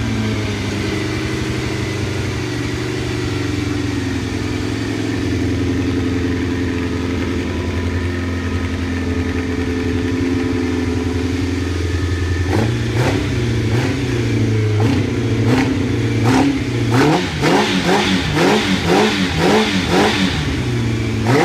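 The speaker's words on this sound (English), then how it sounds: "hit the starter, and it just blipping the starter, the thing just fired up like not even half a crank" A Honda Nighthawk CB700SC motorcycle engine idles steadily and loudly, then blips its throttle in a string of sharp, rising revs toward the end, close up with no talking.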